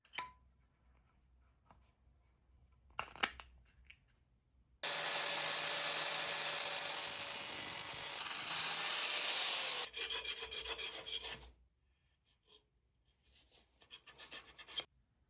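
Cutting and filing a stainless steel shim for a 1968 boat engine's water pump gives a steady, loud rasping scrape lasting several seconds, then a rougher stretch of strokes, with faint scratchy handling before and after.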